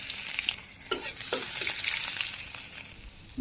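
Okra and chopped onion frying in hot oil seasoned with dried chili and cumin, a bright continuous sizzle with a few stirring knocks against the pan, close up.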